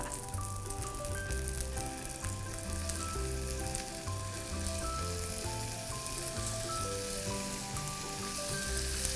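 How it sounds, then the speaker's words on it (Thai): Bacon-wrapped cheese sausages fry in a pan with butter and a little oil, giving a steady, close sizzle that runs unbroken throughout, with a soft tonal hum in the background. "แล้วทีนี้ก็ใส่ลงไปทอดเลย"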